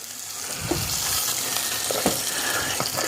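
Tomato puree sizzles and fries in a roux for braised beef short ribs, a steady close crackle with occasional stirring scrapes, no voices.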